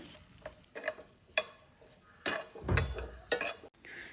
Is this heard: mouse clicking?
no